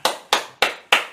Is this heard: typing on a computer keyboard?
no